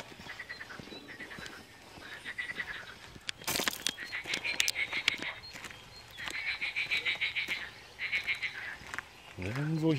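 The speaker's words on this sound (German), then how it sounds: "hier vorne quaken die Frösche wie die Weltmeister" Frogs croak in repeated rhythmic bursts outdoors along a hiking trail near Nidau, Switzerland, fairly near, with a brief loud knock partway through and no clear talking.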